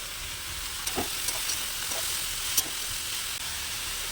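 Potol, brinjal, potato, pumpkin, papaya and kakrol frying together in a pan give a steady, close broadband sizzle, with a few soft clinks and stirring scrapes breaking through.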